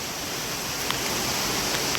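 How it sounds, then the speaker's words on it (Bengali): Heavy rain streams down as a steady rushing wash of water, a broad continuous hiss with faint splashes, loud and close throughout without any voices. "পুরো পানির স্রোত।"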